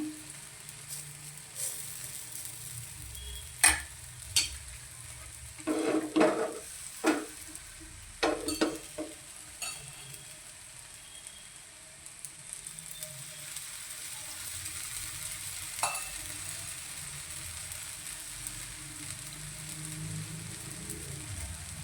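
Rice flour uttapam batter cooking on a hot pan gives a steady soft sizzle throughout, broken by a few brief clinks and scraping stirs near the start, with no talk.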